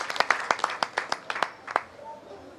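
Scattered hand claps from a small group welcoming home a returning athletics team, a dozen or so distinct claps over a couple of seconds that thin out and fade, with faint background murmur.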